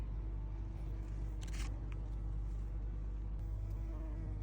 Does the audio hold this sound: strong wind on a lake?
no